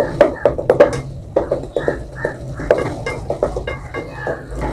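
Sautéed onion and tomato are mashed in a pan with a string of quick, close taps and soft scrapes of a utensil against the metal, coming in uneven bursts.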